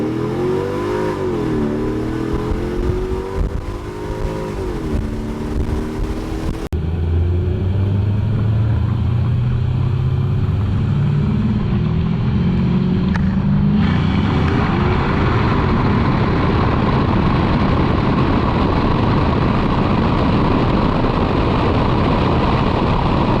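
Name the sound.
car accelerating in a 20 roll pull on Nitto NT-05 tires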